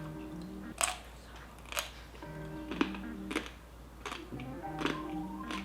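Someone chewing crunchy Filipino lechon baboy roast pork with vinegar dipping sauce, several loud crackling bites and crunches close up over a faint background.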